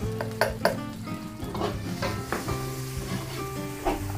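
Onions frying in a pan with a soft sizzle under repeated metal clinks and scrapes of a utensil stirring against cookware, close and fairly quiet, with music playing in the background.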